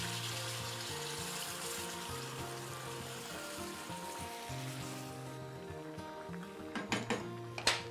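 Water poured into a cooking pot to cover rice for a one-pot chicken and rice dish, a steady running splash throughout with a few louder clattering bumps near the end.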